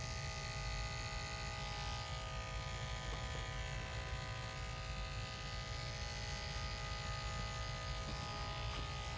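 Hair clippers with detachable blades run continuously while blending a fade at a barbershop, a steady close electric buzz with no pauses or speech.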